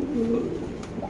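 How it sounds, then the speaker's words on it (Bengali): Soft, close cooing comes from an owl pigeon, a fancy breed held at a large pigeon farm. One low call rises and falls over about a second against a steady background hum. "এটা একটা আউল কবুতর মাশাআল্লাহ খুব সুন্দর"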